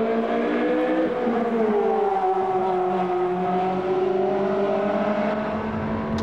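Ferrari Formula 1 race cars at Spa in 2001 roar past, a loud, continuous engine whine with rising and falling pitch as several cars pass near, with no talk.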